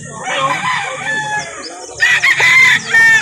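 Roosters crowing and clucking at a busy chicken market in Calauan where gamefowl and stags are sold, several loud overlapping crows close by, with a brief pause before a second burst of crowing.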